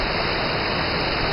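A waterfall at São Thomé das Letras roars as a dense, steady hiss of falling water, loud and unbroken for a brief moment.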